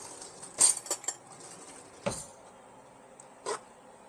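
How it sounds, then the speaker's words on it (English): Metal cutlery clinks and clatters as a fork is picked up from a kitchen drawer, a few sharp close taps and a final chink, fairly quiet in a still room. "Get myself a fork."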